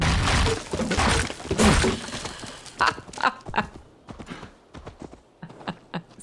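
Horse hooves clatter in an uneven run with a crash near the start, followed by scattered thuds and clops in Assassin's Creed Valhalla.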